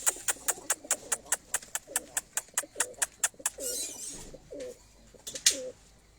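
Pigeons on a rooftop loft coo in soft, throaty bursts, and a rapid run of sharp, evenly spaced clicks or taps comes first, then several rolling coos close by, fairly quiet.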